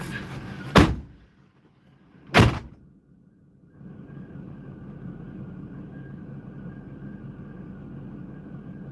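A car door slams shut twice in quick succession, two sharp close thuds during an ice fishing trip, followed by a steady low engine-like rumble inside the vehicle.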